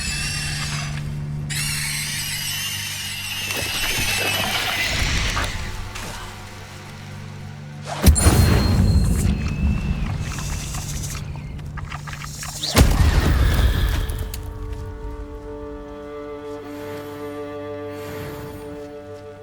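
Incendio fire spell in Hogwarts Legacy bursting with two sharp, booming whooshes a few seconds apart, layered over sustained in-game music.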